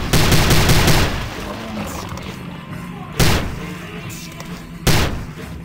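Gunfire in the video game Prey: a loud opening burst of rapid shots, then two sharp separate blasts later on, with game ambience between them.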